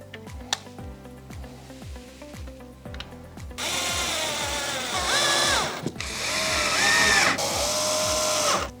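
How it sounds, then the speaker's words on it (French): Power screwdriver driving screws to fix a metal drawer part onto a kitchen drawer front: a steady, whirring drill motor that runs continuously for several seconds, preceded by lighter rhythmic clicking. "Et on va visser la partie métallique à notre façade"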